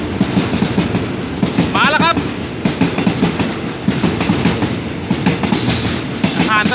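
Crude oil freight train 632 rolls through Samsen station in Bangkok, a loud steady rumble with rhythmic clickety-clack of wheels over rail joints and squealing wheels. Someone talks over it.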